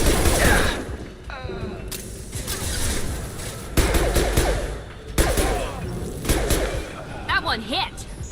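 Gunfire in Mass Effect 2, repeated bursts of rapid shots and impacts in several volleys across a busy firefight, with a voice briefly heard amid the shooting.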